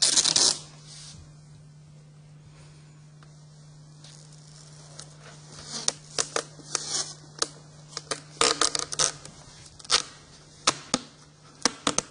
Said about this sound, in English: I'm putting some tape on to cut after.